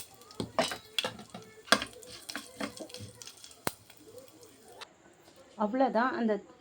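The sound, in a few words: pouring mustard seed and curry leaf tempering into beetroot chutney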